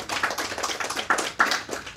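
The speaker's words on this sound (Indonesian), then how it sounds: "Tepuk tangan." An audience claps at a religious talk, a spread-out crowd of quick, irregular hand claps filling the whole stretch at moderate loudness, with no voices over it.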